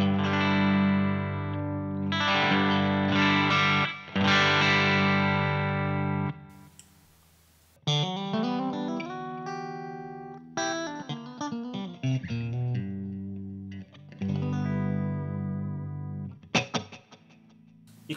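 Electric guitar through a Revv D20 amp on the edge of breakup gives a softly overdriven tone, with ringing chords and single-note lines separated by short pauses and no talking.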